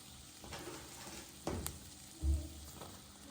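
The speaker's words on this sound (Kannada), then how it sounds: "ತ್ರೀ ಟೇಬಲ್ ಸ್ಪೂನ್ ಆಗುವಷ್ಟು ಮೈದಾ ಹಾಕಿ ಸ್ವಲ್ಪ ಚೆನ್ನಾಗಿ ಫ್ರೈ ಮಾಡ್ಕೊತಿದ್ದೀನಿ" Maida flour frying with garlic in a pan, giving a faint, steady sizzle with a few soft stirring scrapes and one brief bump, heard alone.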